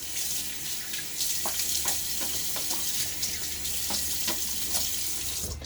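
Running tap water splashing into a sink while a face is rinsed during a shave with a Gillette safety razor, a steady close rushing stream broken by small splashes and no talk.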